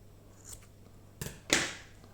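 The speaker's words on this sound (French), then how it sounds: "Je vais couper." Scissors snipping through trapilho yarn in a quiet room, a faint click followed by two short, crisp cuts close by.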